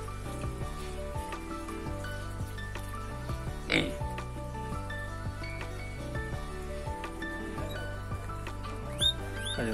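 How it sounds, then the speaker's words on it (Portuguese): Guinea pigs at a small farm keeping exotic animals squeak and chatter steadily and close by, with a sharper, louder squeal partway through and a few quick rising chirps near the end. "Porquinho da Índia isso aqui, né?"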